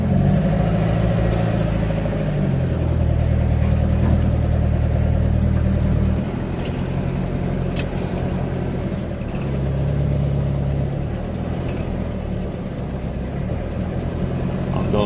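Several Volkswagen Gol cars idling and revving together at a Sunday car meetup, a loud continuous low engine rumble that shifts in pitch partway through, with faint voices in the background.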